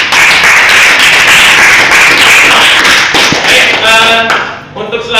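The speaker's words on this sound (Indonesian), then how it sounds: "Sekali lagi tepuk tangan untuk kita semuanya." Teacher's class claps hands together in a loud, close, dense round of clapping that tapers off near the end as a voice begins speaking.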